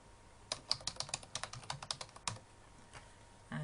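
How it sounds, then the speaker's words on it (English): Keys clatter on a computer keyboard in a quick burst of close, crisp taps as a username and password are entered, then the typing slows to a few scattered strokes in a quiet room. "type in my username and then type in my password"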